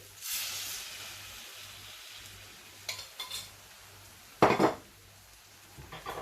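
Paella rice being stirred in a pan, with a few scraping spoon strokes and one louder clatter against the metal over a low background hiss, close by and quiet, nobody speaking.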